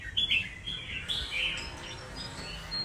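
A pet songbird chirping nearby in quick, bright bursts of tweets over a faint low background hum, with no voices.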